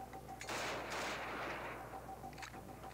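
Gunfire in the Sniper Ghost Warrior mobile game: one sharp shot burst, then a fading rumble, heard fairly faintly over a steady electronic tone.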